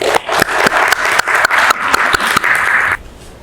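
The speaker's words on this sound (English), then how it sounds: "Please welcome him warm round of applause." A conference audience gives a warm round of applause to welcome the chairman of CII Andhra Pradesh to the podium: dense, loud clapping with distinct sharp claps that stops abruptly near the end.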